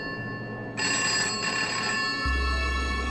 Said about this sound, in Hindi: आनंद का फोन बजा। फोन घर के लैंडलाइन से था।